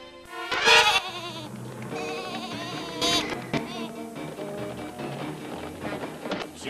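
A ewe bleats in a cartoon, several wavering cries spread across the stretch, loud and close with a musical score running beneath.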